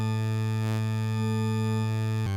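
A steady, buzzy Pigments 3 synthesizer tone rich in overtones, shaped by a notch filter with amplitude modulation, holds for a couple of seconds, its timbre shifting slightly before it cuts off abruptly.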